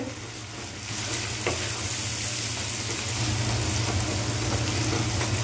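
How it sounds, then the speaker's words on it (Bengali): Onion and tomato sizzle steadily in a hot pan, a constant crackling hiss that grows slightly louder after the first second, with a low hum underneath. "তো দেখো আমার পেঁয়াজ টমেটো ভাজা হয়ে এসেছে।"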